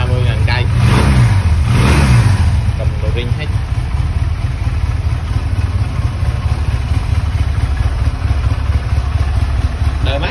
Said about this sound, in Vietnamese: máy đang nổ luôn nè đang nổ máy nha